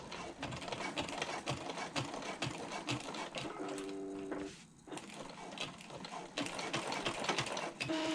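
Domestic sewing machine stitching the exterior of a convertible bag, climbing onto a thick seam with a hump jumper supporting the presser foot; steady rapid mechanical whirring and clatter, briefly pausing midway before resuming.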